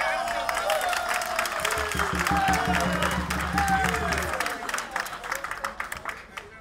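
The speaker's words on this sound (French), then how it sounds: "On applaudit encore." A crowd at a neighbourhood meeting in the Atsibe Ntsoss quarter applauds steadily while a voice speaks over the clapping, which thins out toward the end.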